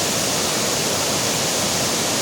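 Waterfall at the Watson Mill Bridge dam in Georgia roars in a steady, dense rush of falling water, loud and unbroken throughout with no voices.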